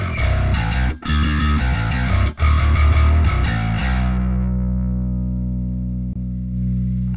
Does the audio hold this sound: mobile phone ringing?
no